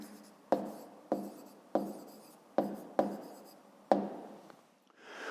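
A pen writes out a short answer to a math exercise, with a series of quick scratchy strokes in irregular bursts, each starting with a sharp tap and fading, close and quiet.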